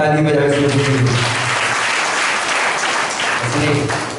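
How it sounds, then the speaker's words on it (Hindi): Congregation applause during a church sermon, a sustained burst of clapping from the crowd, with a voice heard at the start and again near the end. "जोरदार ताली बजाओ इसको"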